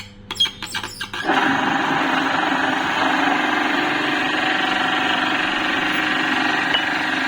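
Home electric flour mill set for fine grinding, milling grain such as ragi into fine powder: a brief startup clatter, then a steady loud whirring, grinding drone that holds evenly to the end.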